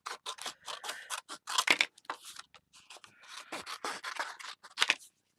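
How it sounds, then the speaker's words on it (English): Scissors snip through paper in a steady run of crisp, close cuts, about a dozen quick strokes with short pauses, heard alone at a craft table. "But what I'm going to do with the scissors is I'm just going to cut between them."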